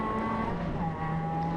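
On-board a Ford Fiesta race car at Anglesey circuit, the engine holds a steady high-revving drone with a faint tyre squeal, loud and continuous with no talk.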